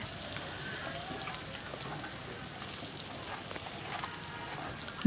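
Fried potatoes cook with pangas fish in a pan, giving a soft, steady sizzle and crackle like light rain, with faint scraping as the mixture is stirred continuously; quiet and close, with no speech.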